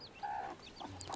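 A brooding native hen with young chicks lets out a few soft, quick clucks and chirps, close by and quiet in a brief moment.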